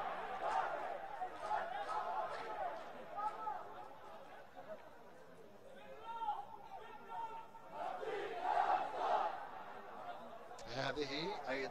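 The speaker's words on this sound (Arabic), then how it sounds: "هذه ايضا زيج واصوات وهتافات الجماهير الهلالية القادمة من العاصمة القدس لمتابعة فريقها" Al-Hilal supporters who travelled from Jerusalem chant and cheer in a football stadium in Jenin, northern Palestine, a rolling crowd roar with rhythmic shouts rising and falling across the stretch, commentary-free but dense and fairly distant.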